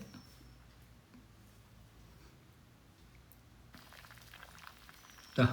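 Thala fish curry simmering in a pot, a soft, continuous bubbling and popping at low volume that grows slightly livelier toward the end, closed by a sharp clink of a utensil.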